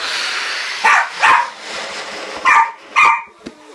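A scared or excited dog barks in four short, loud yips in two pairs, close by, with a steady background hiss between the barks while balloons are blown up for a party.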